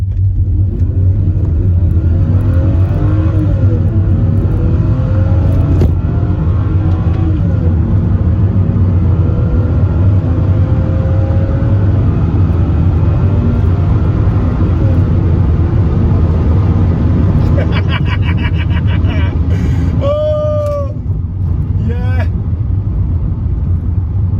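Loud, continuous engine roar of a 1995 Mercedes SL320 (R129) under sustained full-throttle acceleration, with a droning rumble and road noise; a voice talks over it briefly.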